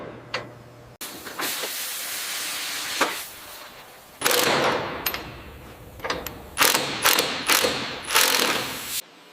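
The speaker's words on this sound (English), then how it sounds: "We'll use the new impact wrench." A new impact wrench works on the bolts of a badly damaged snowplow truck during a hydraulic lift repair. It fires loud, close rattling bursts in several separate runs with short gaps, over a steady mechanical hiss.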